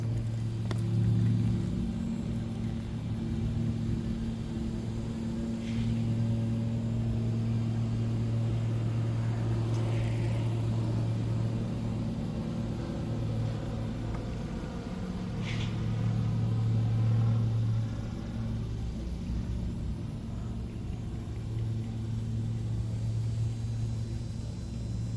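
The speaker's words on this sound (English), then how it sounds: "So first I'm going to try the pedal assist so you can see how fast it responds." Aairsk GT900 electric bicycle ridden under pedal assist: a steady low motor hum and road rumble run unbroken and fairly loud, with no talking.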